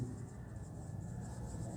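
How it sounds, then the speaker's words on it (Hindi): Steady soft scratching of a pen or marker writing out a math formula, a continuous dry stroke sound heard close and alone with no talk. "अब मैं लिखता हूं फॉर्मूला नंबर 2"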